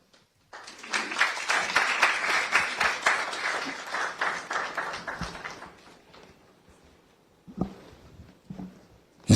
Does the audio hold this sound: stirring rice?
no